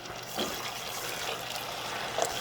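Water pours steadily into a pot, a soft continuous splashing stream at low volume.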